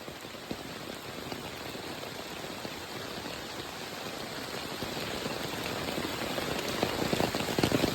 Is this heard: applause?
no